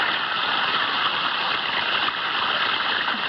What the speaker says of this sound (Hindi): फ्लश कभी अपने आप शुरू हो जाती है, कभी अपने आप बंद हो जाती है